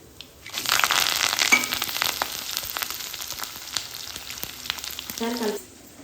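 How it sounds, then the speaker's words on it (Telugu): Mustard seeds, chana dal, urad dal and cumin fry in oil in a steel kadai, giving a close, bright sizzle full of rapid crackling pops that runs steadily for several seconds, then stops abruptly. "స్టీల్ కళాయి పెట్టుకొని ఒక రెండు పావులు ఆయిల్ వేసుకున్నానండి తాలింపు గింజలు ఆవాలు పచ్చనగపప్పు మినప్పప్పు జీలకర్ర వేసానండి"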